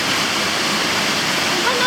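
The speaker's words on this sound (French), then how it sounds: "Oh, c'est impressionnant toutes ces belles cascades." A steady, full rush of water falling from waterfalls, close and loud, continuing without pause.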